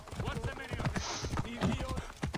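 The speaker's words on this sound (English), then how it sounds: "I just love the galloping sound." Rhythmic hoofbeats of a galloping horse in the video game Assassin's Creed Origins, quick and steady, with someone talking over them throughout.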